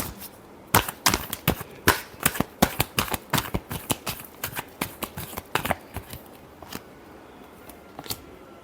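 Tarot cards are riffled and tapped in a rapid, uneven run of crisp slaps and flutters, close and clear, thinning out toward the end.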